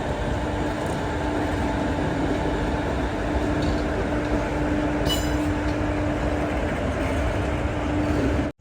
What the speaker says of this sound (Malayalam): ഇന്ത്യയിലെ ഏറ്റവും ദൂരത്തിലോടുന്ന ട്രെയിനായ കന്യാകുമാരി ദിബ്രുഗഡ് വിവേക് എക്സ്പ്രസ് ആണ് ഈ കടന്നു വരുന്നത്.